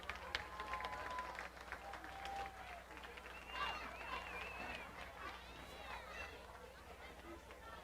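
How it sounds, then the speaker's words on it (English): A crowd at a high school football game applauds the senior band members, distant, diffuse clapping and cheering in an open stadium, blended with crowd babble and faint voices. "One last round of applause for our senior band members"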